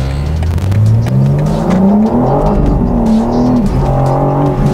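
A BMW M4 engine revs hard and accelerates, a loud, close, continuous roar with rising and falling pitch as it climbs through the revs, alone with no talk.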